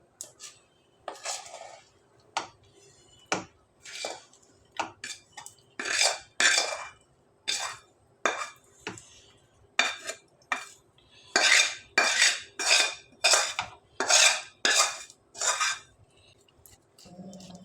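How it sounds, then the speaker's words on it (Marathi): A jaggery and peanut chikki mixture goes from its pan onto a ghee-greased plate, with a steady series of sharp metallic scrapes and clinks of spoon on steel, close and clear, with no talking. "आता हे मिश्रण या प्लेटमध्ये ओतते"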